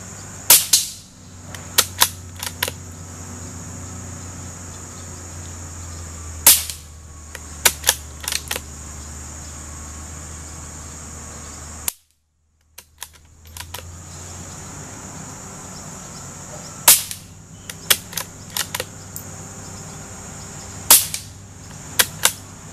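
A Marlin XT-22 rifle firing CCI CB Long .22 rounds, quiet sharp cracks spaced seconds apart, with small clicks of bolt handling over a steady hum of outdoor background noise.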